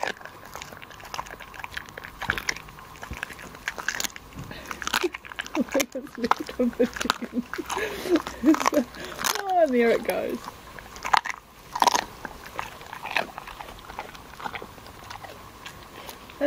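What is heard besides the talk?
dog chewing and crunching a whole chicken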